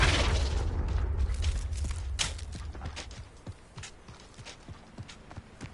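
Confringo and Flipendo spells are cast in Hogwarts Legacy, a heavy boom and blast that fades into scattered clattering thuds and impacts.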